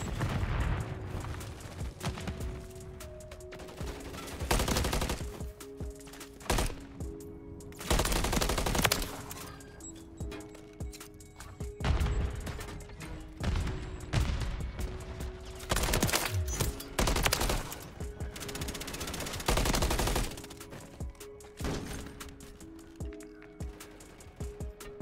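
Call of Duty MW3 gunfire plays as rapid automatic bursts, some close and loud and others farther off, repeating in clusters over continuous game noise.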